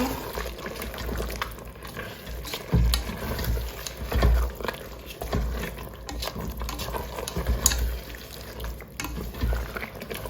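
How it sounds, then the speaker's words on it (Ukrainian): Pilaf is stirred in a multicooker pot, giving irregular scraping and clattering stirs over a soft sizzle of frying rice, with louder knocks now and then. "Ще раз все перемішую."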